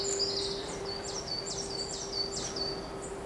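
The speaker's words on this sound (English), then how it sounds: "Been listening to the birds singing." Outdoors, birds repeat high, sweeping whistled notes in a steady rhythm, with a faint hum and ambient noise underneath.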